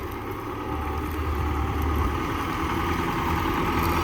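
An MTZ 892 tractor engine idling, a steady low diesel rumble with an even mechanical throb, close and continuous throughout with no speech.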